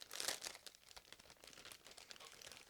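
Plastic bag crinkling as sprues from an ICM 1/35 G7117 truck model kit are unpacked, a brief close rustle with sharp crackles at the start, then softer scattered crinkles.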